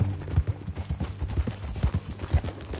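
Horse hooves clip-clop in a steady, close, moderately loud rhythm in Red Dead Redemption 2, a western setting with an occasional faint whinny mixed in.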